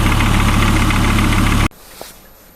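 A car engine idles steadily and loud after its MAF sensor was cleaned, a dense continuous rumble that cuts off abruptly about two-thirds through, leaving a quiet background with one faint click.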